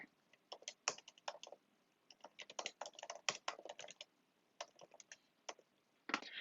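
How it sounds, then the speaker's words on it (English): Quick, uneven bursts of keystrokes on a computer keyboard as a project file name is typed, close and fairly quiet, with short pauses between clusters of taps and no talking. "Type in a name for your project."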